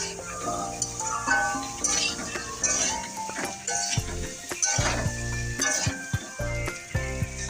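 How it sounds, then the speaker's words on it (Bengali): Pieces of mankochu (giant taro) sizzle in a hot pan while utensils clink and scrape against the cookware, and background music plays throughout. "কচু ভাজা হবে"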